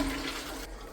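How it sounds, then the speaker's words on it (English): A toilet flushing during bathroom cleaning, a brief rushing swirl of water at moderate volume that cuts off abruptly. "And then I'm going to flush."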